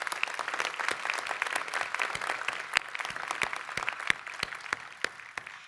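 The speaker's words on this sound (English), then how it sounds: "Let's give them a round of applause." An audience at a spring new student convocation claps steadily, dense and even applause with sharp individual claps standing out, moderately distant throughout.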